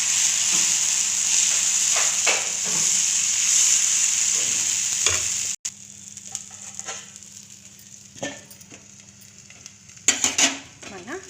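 Bottle gourd dosa sizzling on a hot pan as its second side cooks, a bright steady hiss up close with scattered spatula scrapes; the sizzle drops sharply halfway through, leaving quieter crackles and a few louder clatters.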